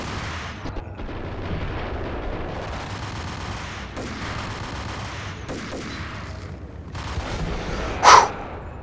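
Scattered gunfire pops and booms rattle through a Max Payne video game scene, ending in one sharp, loud blast near the end.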